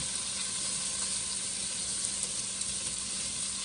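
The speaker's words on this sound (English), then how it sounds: "this is a smoked bacon, and I'm just going and frying it so that I can get the oil out of it" Steady, loud sizzling of smoked bacon frying in a pan, a constant crackling hiss with no voices.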